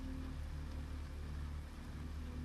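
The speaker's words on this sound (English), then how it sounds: "Hey, it's raining." Steady rain falls in the video game NEO Scavenger as a quiet, continuous hiss over a low rumble, unbroken and even throughout, with no talking.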